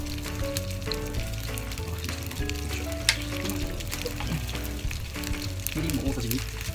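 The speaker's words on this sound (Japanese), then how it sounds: "皮目から焼いていきます。" Yellowtail (buri) fillet frying skin side down in a pan for teriyaki, giving a steady, dense sizzle and crackle that holds throughout at close range with no talk over it.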